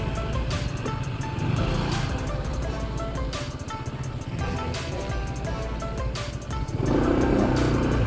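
A Honda ADV160 scooter rides along a rough, uneven road during its break-in period, a steady engine drone with wind rush and road rumble throughout, recorded close on the bike.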